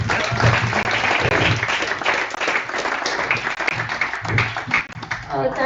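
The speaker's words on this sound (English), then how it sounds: "Can we give a big round of applause for it? Big round of applause." Conference audience applauding after a speech, a loud dense wash of clapping mixed with crowd murmur and voices, swelling and dipping over several seconds.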